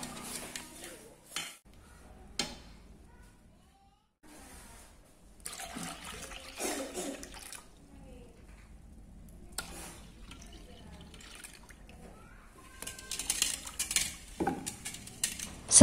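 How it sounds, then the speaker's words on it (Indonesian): Coconut milk poured into a sago mixture and stirred, with liquid splashing and pouring, spoon clinks against a pot and scraping stirs in uneven bursts, louder toward the end. "sekarang kita tuang saja sisa santannya"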